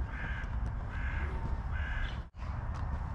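Crows in a European city caw in three separate harsh bursts at mid distance, with no talking over them.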